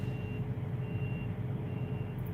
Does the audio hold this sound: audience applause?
no